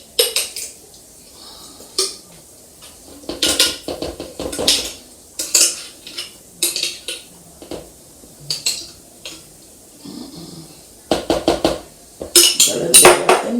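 A spoon clatters and scrapes around a bowl as Christmas fruit cake batter is stirred together, giving a loud, close, irregular run of clinks and knocks with brief pauses between bursts.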